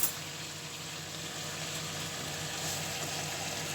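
Food simmers in a pot with a steady, soft bubbling and hiss, faint and continuous with no voices over it.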